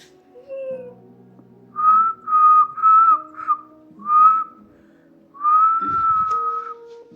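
A person whistles during a neurological facial-expression exam, giving a run of five short clear whistled notes followed by one longer held note, close and distinct against a quiet room with faint background sounds.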